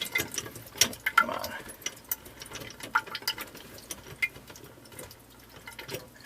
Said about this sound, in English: just draining down the cold water system right now is what it's doing